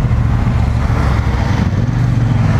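A Triumph Bonneville Bobber motorcycle engine idles with a steady low rumble, close and loud, running continuously without variation.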